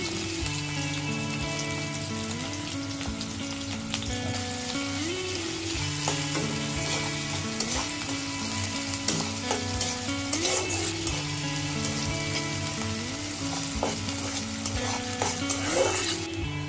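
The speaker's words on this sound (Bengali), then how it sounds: "তেলটা কিছুটা গরম হয়ে আসলে আমরা এর মধ্যে কুচি করে রাখা পেঁয়াজগুলো দিয়ে" Chopped onions sizzle steadily in hot oil for bitter gourd fry, with repeated stirring scrapes and clinks over a continuous loud frying hiss, no voices.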